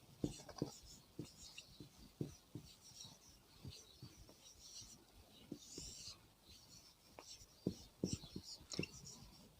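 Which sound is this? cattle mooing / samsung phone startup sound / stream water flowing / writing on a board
writing on a board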